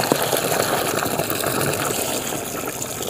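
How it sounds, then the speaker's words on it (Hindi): Water gushes steadily into a dug earthing pit being filled for an electric fence energiser ground connection, a continuous loud splashing and rushing flow with no talking. "फिर बाद में इसमें पानी डालना हुआ होता है"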